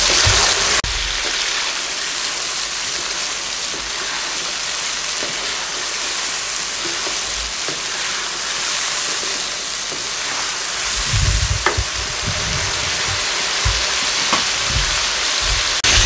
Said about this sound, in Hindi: मैं इसको 4 से 5 मिनट डीप फ्राई कर लूँ, ये अपना कलर चेंज कर लेगी।